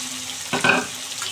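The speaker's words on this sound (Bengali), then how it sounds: "আলুগুলো একটু ভেজে নিতে হবে।" Long-cut sliced potatoes hit hot oil in a pan over tempered spices, giving a brief burst of sizzling and frying hiss up close.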